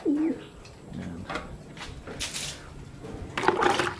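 Pigeons coo in a breeder's loft, soft low calls at the start and again near the end, with faint water and handling noise between and no talk.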